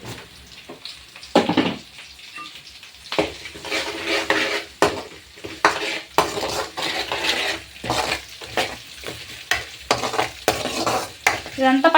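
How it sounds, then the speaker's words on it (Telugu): Masala with turmeric sizzles in oil as a spoon stirs and scrapes it around a pan for a fenugreek-leaf dish, repeated close clanks and scrapes over a steady frying hiss, with no talking. "ఇదంతా పచ్చివాసన అంతా పోవాలన్నమాట. మంచిగా ఫ్రై చేసుకోవాలి."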